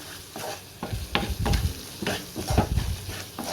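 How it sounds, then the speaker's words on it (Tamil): Ginger garlic paste and masala being sautéed in a pan for crispy potato snacks, with repeated scraping stirs over a soft sizzle, close and moderately loud, no talking. "இப்போ எல்லாத்தையும் சேர்த்துட்டு நல்லா வந்து வதக்கி விட்டுடுவோம்"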